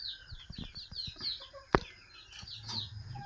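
Hobby chickens give a string of thin, high chirps and soft clucks at close range, with a single sharp knock cutting through midway.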